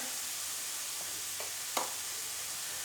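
Cauliflower frying in a pan for aloo tikki makes a soft, steady sizzle, faint and even, with a few light clicks of stirring and one sharper tap, no voices.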